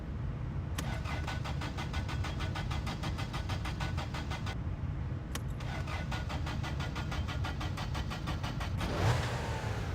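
A car engine is cranked on full choke: a rapid, even chugging of the starter runs for several seconds, stops briefly, then churns again before the engine catches roughly near the end. It is close and loud, with no talking.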